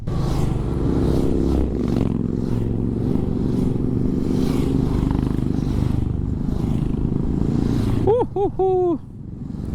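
A group of motorcycles rumbles steadily at close range on a ride from Siliguri to Lolegaon, with a brief burst of horn-like tones near the end and some voices underneath.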